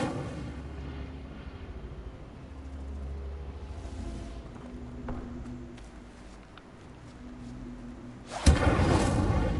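A loud, sudden whoosh of flame bursts out near the end as the Incendio fire spell is cast in Hogwarts Legacy, following several seconds of low rumbling game ambience.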